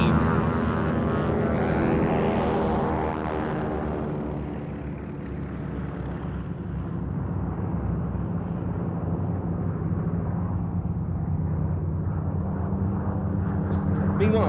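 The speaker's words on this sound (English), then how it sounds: "the Catalina gets airborne, the first of the aircraft in our salute formation to do so" A Catalina flying boat taking off at a VE Day air show, radial piston engines droning loudly and rising as it climbs away, the tone fading and thinning before building again, with a commentator's voice faintly under the noise.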